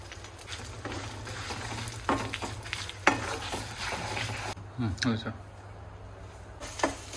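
A Telugu coconut chutney tempering in a pan crackles and sizzles while a spoon scrapes and stirs it in uneven bursts, with a couple of sharp knocks against the pan and brief quieter gaps.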